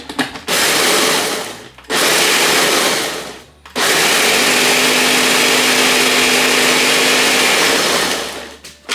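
A food processor whirs through oats in three loud bursts, a short pulse then two longer runs separated by brief pauses, steady motor whine, no talking.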